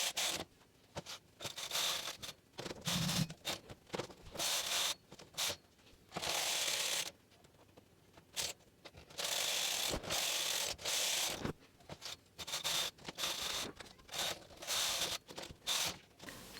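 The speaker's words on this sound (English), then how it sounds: "I will start knit 4 rows of plain knitting" Brother punch card knitting machine working rows of plain knitting in brown yarn, the carriage making repeated rasping, ratcheting sweeps back and forth in bursts with short pauses, close and steady, no voices.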